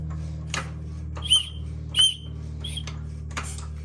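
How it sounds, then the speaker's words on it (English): Faint, brief whistles from a GM High Feature V6 engine turned over slowly by hand with the cam locks off, each one a short chirp set apart over a low steady hum, with light clicks in between. "We're going to turn the engine clockwise. You'll hear the whistle."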